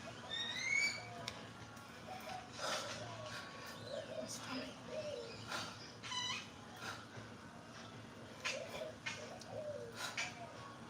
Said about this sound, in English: It's the birds singing for me that I love.